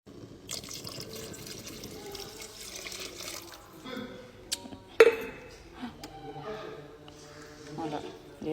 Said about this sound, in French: Et là, je viens ajouter mon eau.